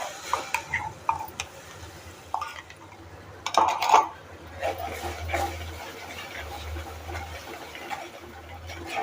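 Ground spice paste stirred in oil for spicy Marathi katvada, soft wet scraping and mixing sounds close by with a few clinks against the pan, fairly faint and uneven.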